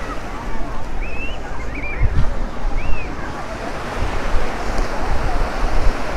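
Beach surf and wind at Praia Formosa in Cabedelo, a loud continuous wash of waves with gusty wind noise on the microphone and faint voices in the background.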